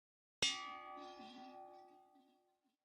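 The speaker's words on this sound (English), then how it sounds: "Eric Asmussen and Julie Asmussen ringing the bell for the Arkansas Thoroughbred Retirement and Rehabilitation Foundation" Single bell struck at a thoroughbred horse racing track, a sharp metallic clang that rings on with a long, clear decaying tone in a quiet setting.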